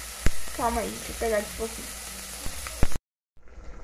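Meat goes into a frying pan of sautéing vegetables and sizzles steadily under a woman's speech. A few sharp clinks are heard before the sound cuts off abruptly.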